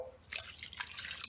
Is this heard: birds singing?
no